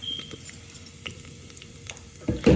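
Cumin seeds crackle and splutter in hot oil with a pinch of hing, a steady close sizzle dotted with small pops, then a louder burst of frying near the end.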